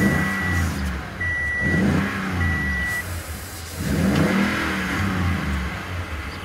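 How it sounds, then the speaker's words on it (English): A 2015 Toyota Tundra TRD Pro pickup's engine revs up repeatedly in three swelling bursts, a deep mid-range roar rising and falling, loud and close with no talk over it. "listen to what this truck sounds like"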